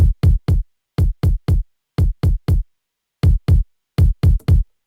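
A dry, unprocessed kick drum plays a syncopated pattern of short, punchy low thumps in groups of three and four, separated by brief silences.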